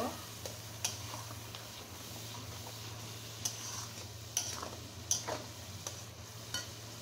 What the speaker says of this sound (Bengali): দিয়ে এখন আমি এটা খুব সুন্দর করে ভোনা ভোনা করে নেব, কষিয়ে নেব।